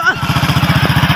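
A motorcycle engine putters in a steady, rapid pulsing rhythm close by on a hill-country road, loud and continuous throughout the short stretch.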